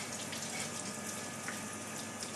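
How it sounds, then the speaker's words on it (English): Cold tap water runs steadily as oven parts from a Merrychef oven are rinsed under it, a constant close hiss and splash with no talking. "then we just simply rinse them off under the cold tap"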